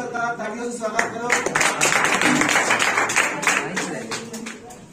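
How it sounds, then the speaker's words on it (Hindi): An audience gives a round of clapping to welcome a director at an event, a dense flurry building then tapering off, with people talking through it. "सौरभ सरकार तालियों से स्वागत करो।"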